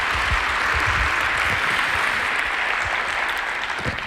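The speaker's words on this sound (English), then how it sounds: "give the most massive round of applause to these people" Audience at a church service applauding, a dense, steady wash of clapping that holds at full strength for several seconds.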